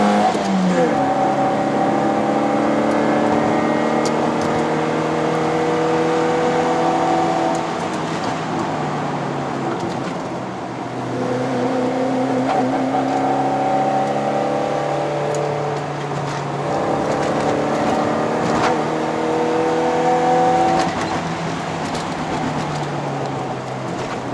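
A 120 whp Perodua Myvi 1.5L climbs the mountain road to Genting in Malaysia, its engine droning and revving in long rising sweeps that drop and climb again through gear changes, loud and close from inside the cabin.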